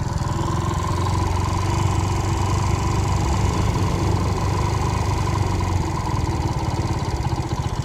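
A Hero Splendor motorcycle engine idles just after a battery change, its idle screw turned up slightly, giving a loud, steady, even low putter close by with no talking.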